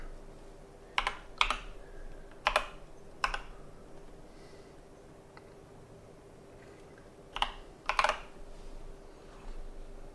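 Quiet clicking of a computer keyboard in short bursts of a few keystrokes, separated by pauses, close and alone in a calm room.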